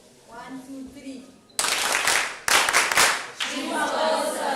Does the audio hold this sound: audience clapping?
yes